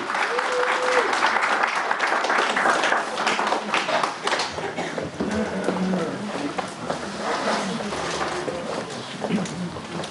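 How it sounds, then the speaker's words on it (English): A loud round of applause from an audience greets Rabbi Dovid Orlofsky at a Chazaq event, dense continuous clapping that stays strong throughout, with a short tonal sound early on. "let's give a nice loud round of applause to Rabbi Dovid Orlofsky"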